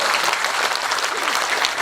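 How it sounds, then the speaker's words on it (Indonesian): A crowd at an Islamic sermon gathering claps warmly. The applause is dense and continuous and fills the room at an even loudness from start to finish. "Tepuk tangan untuk Pak PJ, Pak Wali Kota."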